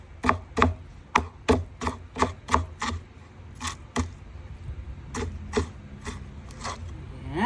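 A knife chops through ginger on a board in quick, sharp strokes, a dense burst of about ten cuts followed by a short pause and a few more spaced chops, close and crisp with no talking.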